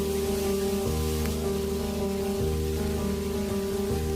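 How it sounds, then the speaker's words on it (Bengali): Koi fish frying in hot oil with a steady, dense sizzle and crackle throughout, close and continuous with no talk. "এইভাবেই একই পদ্ধতিতে আরও 2টো মাছ আমি ভেজে নেব।"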